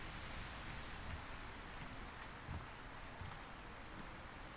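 Steady rain falls in A Quiet Place: The Road Ahead, a faint, even hiss of drops and patter continuing throughout without any voices.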